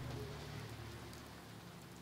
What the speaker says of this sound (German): Auch wegen dem Regen, der gefällt mir gar nicht.